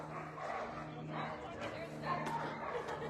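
Dogs isolated in a shelter kennel with kennel cough bark and whimper faintly in the background beneath steady human talk.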